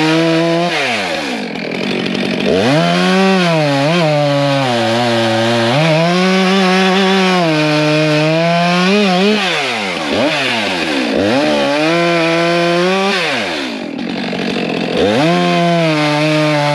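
Stihl 462 chainsaw cutting a log about two feet across during land clearing on a mountaintop: a loud, close engine revving up and bogging under load through repeated cuts, dipping briefly to idle between them, with no speech.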